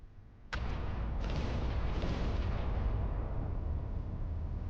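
Naval gunfire and explosions in the warship video game Battleship Command: a sudden loud blast after brief quiet, then a dense, sustained rumbling roar of detonations that holds steady to the end.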